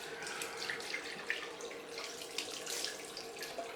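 Cold tap water runs steadily into a sink for a rinse during a head shave, a continuous close hiss and splash with small drips and no talking.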